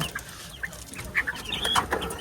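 Desi chickens and roosters kept in an enclosed farm give short, scattered clucks and calls, some close and some farther off, with a faint flutter over a steady background hum and no talk.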